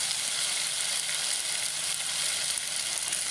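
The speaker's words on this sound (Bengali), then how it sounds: "আমি হচ্ছে একটু পেঁয়াজটা বেরেস্তা করে নিলাম, এরপরে দিয়ে দেবো বাটা পেঁয়াজ" Onions browning in a hot pan with onion paste for a home-style fish curry, giving a steady, dense sizzle of frying that runs evenly and close throughout.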